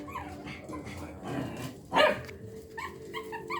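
Shih Tzu dogs bark in short, sharp yips close by, with one louder burst in the middle and lighter yaps scattered around it.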